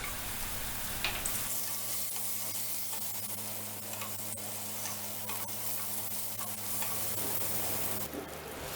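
Chopped onion, bay leaves and chillies fry in mustard oil with a soft, steady sizzle and faint stirring ticks, heard at moderate distance with no talking.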